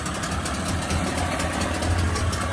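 A Hidea 9.9 PRO outboard boat motor idles steadily close by at about 1080 rpm, a low, even throbbing rumble with a rattly mechanical edge and no other sounds.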